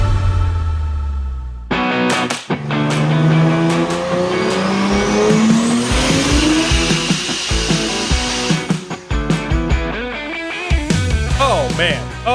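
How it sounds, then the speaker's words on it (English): 2JZ-swapped Mazda RX-8 revving hard on a dyno, its pitch climbing and holding in loud, close pulls with sharp chattering blips near the end. "That's his 2JZ Swaps RX-8. Fun car, rocking it on the dyno"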